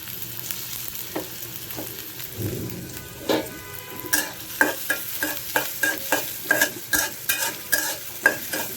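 Onion frying in a pan for spinach bhaji over a low gas flame, with a steady sizzle and then a quickening run of close scraping stir strokes, no talk.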